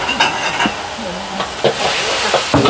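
Pad thai stir-fries in a wok over high heat at a long-running riverside stall, noodles topped with crispy pork rinds. A loud steady sizzle and hiss runs throughout, broken by repeated scraping clatters of the spatula, with brief voices nearby.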